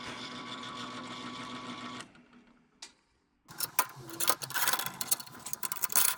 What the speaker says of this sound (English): Begin milling out the material inside the circle.